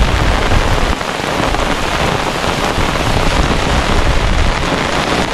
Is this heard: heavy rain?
yes